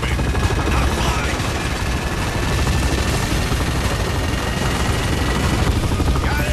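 Steady, loud wash of Bulletstorm video game combat, with continuous gunfire blended into a thick roar of effects and no clear pauses.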